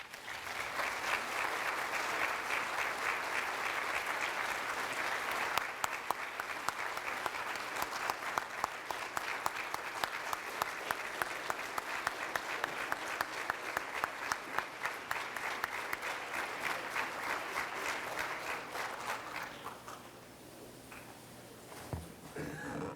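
Sustained audience applause at a high school hall of fame induction ceremony, dense and steady for about twenty seconds before thinning out and fading near the end.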